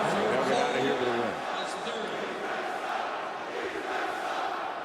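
A basketball arena crowd at a Michigan at Minnesota game roars and jeers, loudest at the start and then settling into a sustained murmur, with a voice talking over it.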